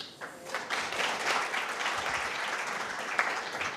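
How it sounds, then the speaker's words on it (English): A crowd applauds steadily for several seconds, dense clapping filling the room at a moderate, even level. "Round of applause."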